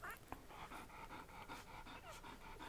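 Soft, rapid panting from Old English Sheepdog puppies, a steady breathy rhythm with a few faint whimpers, close by and continuous.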